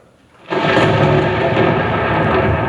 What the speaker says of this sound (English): Oh no, not a thunderstorm today.